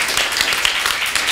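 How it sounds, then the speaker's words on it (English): Audience applause for the winner of a headline-writing contest, a short, steady wash of clapping from a crowd that holds even from start to finish with no voices over it. "let's clap for him"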